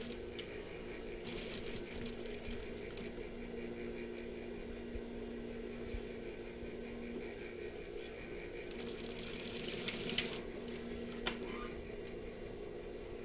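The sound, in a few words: sewing machine stitching fabric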